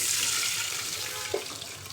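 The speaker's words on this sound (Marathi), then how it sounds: "आणि आता घालायचं आहे पाणी" A steady rush of water pours into a cooking pot of uncooked lentils with asafoetida, continuous and close, with a small splash near the end.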